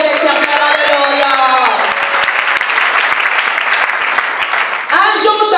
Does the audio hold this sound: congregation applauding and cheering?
yes